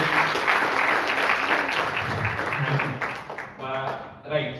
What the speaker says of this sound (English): We can have a round of applause for Mr. Gulam.